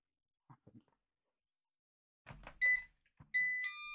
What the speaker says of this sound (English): Very quietly, but it is beeping.